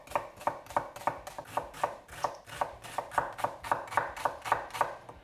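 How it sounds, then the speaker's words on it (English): A knife finely dices a red onion on a cutting board in a home kitchen, landing about twenty crisp, evenly spaced chops at a quick steady pace, close and alone with no talking. "And we'll just finely dice the onion."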